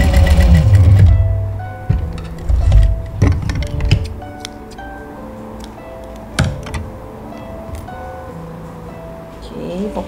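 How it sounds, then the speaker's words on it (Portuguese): Sewing machine stitching the left sides of patchwork triangles, with short bursts of rapid mechanical stitching alternating with pauses and quiet handling noises. "eu pego todos os triângulos e costuro o lado esquerdo"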